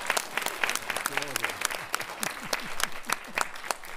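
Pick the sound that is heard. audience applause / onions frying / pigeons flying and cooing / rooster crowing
audience applause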